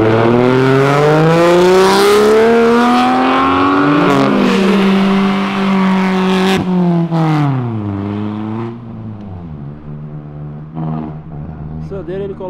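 A Subaru leaves a car meet, its engine revving hard through rising gears in a loud, close roar that drops away as it pulls off, with onlookers talking underneath.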